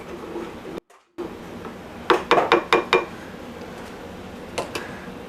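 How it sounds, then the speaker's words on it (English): A pot of pasta being stirred while cooking for chicken parmesan, with a quick run of sharp metallic clinks and taps against the pot in a short burst, then a couple of softer knocks, no talking. "gonna go ahead and stir in the pasta a little"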